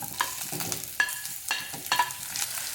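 Chopped onion and green chilli frying in a pan for potato masala, a steady close sizzle broken by a few sharp spoon scrapes and stirring knocks, with no voices.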